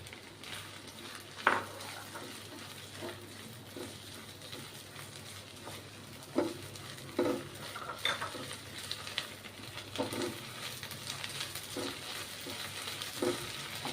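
Capsicum and carrot being stir-fried in a pan for Chinese-style idli: a soft, steady sizzle with intermittent scraping and clinking of a utensil stirring the vegetables, moderately faint and with no talking.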